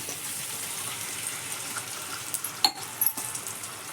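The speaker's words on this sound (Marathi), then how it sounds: "बघा इथं मी गरम केलेलंच पाणी टाकू राहिले" Sizzling of bitter gourd fades to a low hiss, then about one and a half glasses of hot water splash into the pan with a brief burst of spitting and bubbling.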